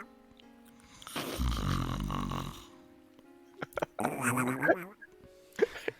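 A human voice imitates snoring like Donald Duck, giving two rough, nasal, rasping snore sounds separated by a pause.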